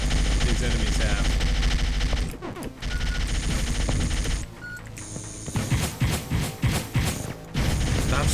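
Enemy gunfire in the game NeuroVoider, rapid machine-gun bursts and crashing impacts that come loud and dense over a busy soundtrack, with brief lulls between volleys.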